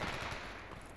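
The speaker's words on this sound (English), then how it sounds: "What are we shooting at?" Continuous automatic gunfire in the video game S.T.A.L.K.E.R. forms a dense, steady rattle of rapid shots with no break across a brief moment.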